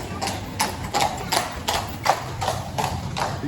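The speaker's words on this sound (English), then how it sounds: "Another horse is coming." Horse hooves clip-clop on a city street in Bruges, Belgium, a steady walking rhythm of sharp evenly spaced knocks at moderate distance over faint background hum.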